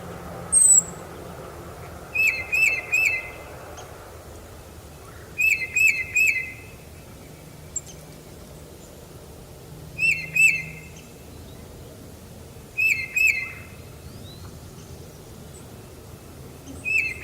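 A tufted titmouse sings clear, whistled phrases of three or four quick notes, repeated every few seconds over a soft outdoor background.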